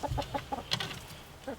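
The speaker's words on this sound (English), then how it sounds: "Let me take a look at the chickens if you want." Hens cluck in a backyard coop at an off-grid Alaska homestead, giving a steady series of short, close clucks with a brief louder squawk partway through.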